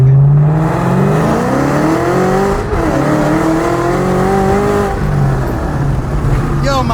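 A Ford Shelby GT500 running E85 fuel revs hard on a dyno, its engine note climbing and falling in loud sweeping pitch changes with a brief dip between pulls, close and dominant, with people talking faintly underneath.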